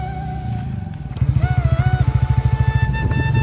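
A motorbike on a village road rumbles with a rhythmic, pulsing engine thump that swells louder midway, close and continuous, with no talking.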